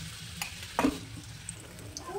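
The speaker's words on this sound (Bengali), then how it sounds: "সেমভাবে বাকিগুলোকেও ভেজে নেব।" Onion flower pakoras frying in hot oil: a soft continuous sizzle with a couple of brief scraping stirs, close and moderately loud.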